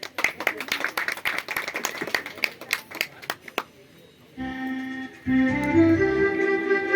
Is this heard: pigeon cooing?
no